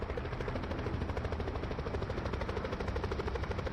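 A helicopter in the Call of Duty Blackout video game thumps with a steady, continuous rotor beat. The engine drone holds at an even level, fairly quiet and heard alone.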